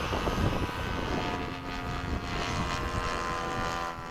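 A Freewing 90mm F-15 RC jet, custom-fitted with a Leopard motor and 13-blade fan, takes off at a flying field with a loud, continuous, steady roaring whine throughout.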